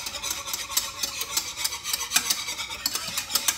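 A spoon scrapes and rasps in quick rhythmic strokes through a thick, eggy coquito mixture in a pot, close and fairly quiet, with no talking.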